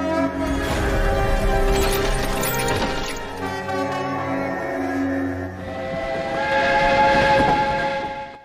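A steam train's whistle blows loudly and at length over the chug and rumble of the engine, close by, with no one speaking.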